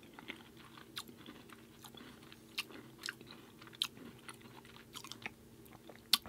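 Someone quietly chews a soft vegan chocolate sandwich cookie similar to an Oreo, after dunking it, with faint wet mouth sounds and small crunchy clicks spread across several seconds.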